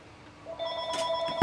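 Mobile phone ringing indoors, a steady electronic ring tone rising in loudness and then cut off by a sharp sound at the end, with no talking.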